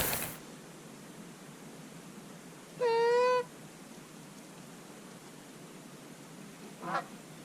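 A single goose call rings out clearly during a goose hunt, a harmonic, slightly rising honk lasting about half a second. A faint second call follows later against a quiet outdoor background.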